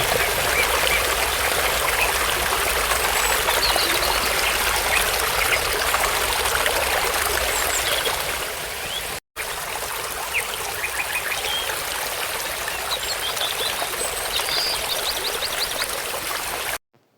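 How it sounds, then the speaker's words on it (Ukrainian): Water trickles and babbles continuously in a flowing stream, with occasional duck quacks and bird calls in the background; a brief dropout near the middle. "Подивіться і послухайте, як тече вода."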